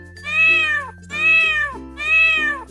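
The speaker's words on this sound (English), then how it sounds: "2 cat, meow." A cat meows three times in a row, each call a clear, drawn-out tonal mew, evenly spaced and close.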